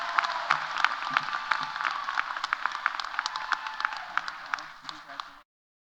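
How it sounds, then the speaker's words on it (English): Crowd applause at a Tidewater Community College commencement ceremony, a steady sustained clapping from a large audience lasting several seconds, with sharper individual claps standing out before it cuts off abruptly. "Let's give him another round of applause, please."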